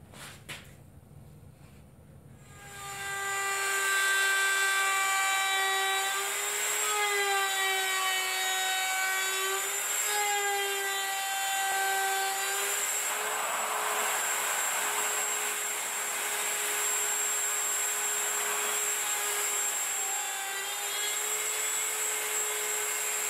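A router fitted to a circle-cutting jig cuts a 17-inch wooden circle, starting up after a short moment and then holding a loud, steady high whine with shifting tones as it moves through the wood, close by and without talk.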